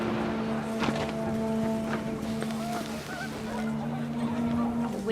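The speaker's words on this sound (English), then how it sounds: "panicked geese appeared and quickly went." Panicked geese in the video game What Remains of Edith Finch honk in scattered, short calls at moderate loudness over a windy, low outdoor hum.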